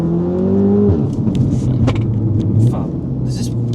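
A stage 2 Audi S3 engine pulls hard under aggressive acceleration, its loud droning rumble rising steadily in pitch, heard from inside the car with a brief shift-like break and some cabin rattle.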